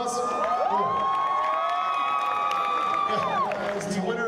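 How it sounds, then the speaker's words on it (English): A crowd at a Halloween costume contest cheers, shouts and whoops loudly and continuously, with a tonal sweep like a whistle or horn over the noise. "How about a big round of applause?"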